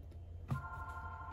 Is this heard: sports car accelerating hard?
no